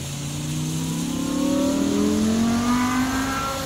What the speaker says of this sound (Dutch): Oké, goed vuurwerk. Dit is goed vuurwerk.